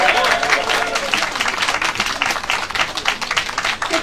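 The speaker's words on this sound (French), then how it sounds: "notre députée Sophia Chikirou, qu'on peut applaudir." Applause from an audience greeting a newly elected deputy at the opening of her parliamentary office in Paris's 6th constituency, a dense, steady wash of clapping lasting throughout with voices mixed in.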